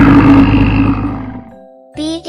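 A bear gives one loud, deep, rough roar that fades out over about a second and a half, followed by a brief different bright sound.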